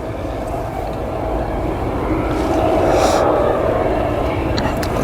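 A KLM airliner taxis to its stand at Leeds Bradford Airport, giving a steady, broad jet engine rumble and hiss that swells slightly midway and holds at a moderate distance.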